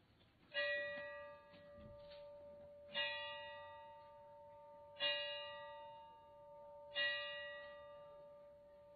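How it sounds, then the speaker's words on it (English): A ceremonial bell rings four separate times at a memorial ceremony, each clear metallic strike ringing out and decaying slowly, evenly spaced about two seconds apart in otherwise quiet surroundings. "I will make sure to ring the bell loud enough so the ancestors can hear it."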